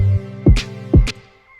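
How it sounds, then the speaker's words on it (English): A synthesized filterless sweep effect built in Ableton with a delay plays twice, each pass a swooping downward tone followed by a bright burst, with echoes trailing off into quiet at the end. "I have this little sound effect that I created out of this sound called the filterless sweep"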